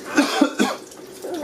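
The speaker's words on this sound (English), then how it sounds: "Oh, no, I didn't sneeze. I just coughed." Several short coughs at close range, one person coughing a few times in a kitchen while preparing a vegan meal, with a soft throat sound trailing off at the end.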